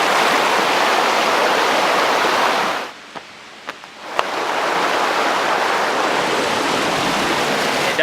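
Rushing water at Gong Chao Waterfall on Koh Kood Island makes a loud, dense, steady roar that drops away for about a second with a few clicks, then returns at full strength.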